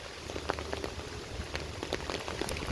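Rain falls steadily outdoors among rice fields in rural Bangladesh, with wind gusting. It makes a soft, continuous patter of drops with scattered brighter ticks of drops striking the surface nearby, and no one speaks.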